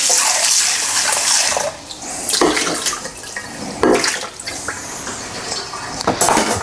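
A part from a Sage Barista Express espresso machine is rinsed under a running tap: a loud, steady gush of water with splashes that shift as the part is turned, plus a brief clatter.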